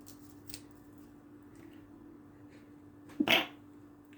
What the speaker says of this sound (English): Sneeze on a Wednesday, sneeze for a letter.